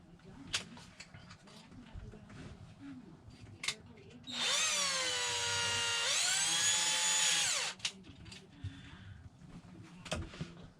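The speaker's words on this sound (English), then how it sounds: "Then I can drill a hole." A power drill bores a hole in a popup truck camper during repairs: one steady, loud high-pitched whine lasting about three seconds, which winds up and then winds down, with quiet shuffling handling noise before and after.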